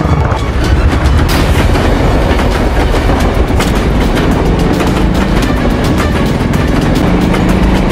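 A train rushing past in a film scene, loud and close, with heavy rumbling and a rapid clickety-clack of wheels over rail joints sustained throughout.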